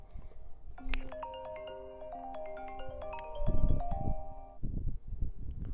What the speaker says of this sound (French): Il y a quelqu'un qui est en train de m'appeler.